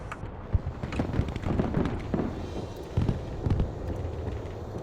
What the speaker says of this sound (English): Green light. Bomb run on target.